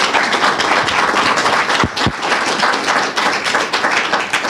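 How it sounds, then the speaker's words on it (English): An audience at a talk on New York offshore wind gives a sustained round of dense clapping, loud and steady for several seconds with no speech over it. "Let's give Alicia a really big round of applause."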